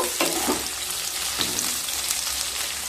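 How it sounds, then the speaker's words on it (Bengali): Paneer cubes fry in ghee and oil in a kadai, producing a loud, steady close sizzle with a couple of bursts of stirring. "আর দিয়ে দিলাম 1 চামচ ঘি। আপনারা চাইলে কিন্তু পুরোটা ঘিতেই করতে পারেন। দিয়ে পনিরগুলোকে ভেজে নেব।"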